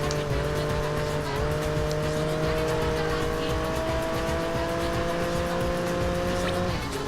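Race car in the video game Project Gotham Racing 4 losing grip and skidding, a sustained tire squeal over a steady engine drone that runs continuously for several seconds before dropping off near the end.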